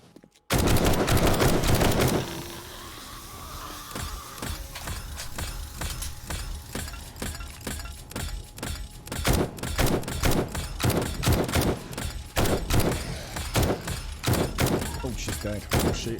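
Rapid gunfire in the Alpha 19 survival game: a dense opening burst, then a steady run of sharp, loud shots in irregular clusters, with background game ambience between them.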